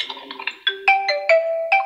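An alarm ringtone plays from a Vivo Y01 phone: a bright electronic melody of clean, sustained tones stepping through a short rising tune, close and clear with no voices.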